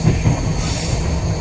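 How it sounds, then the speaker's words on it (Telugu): An intercity train rushes past on the adjacent line, close and loud, a brief dense roar of wheels and rushing air heard from aboard another moving train. "మన ప్రక్క లైన్ నుండి ఒక ఇంటర్సిటీ ట్రైన్ వెళుతోంది"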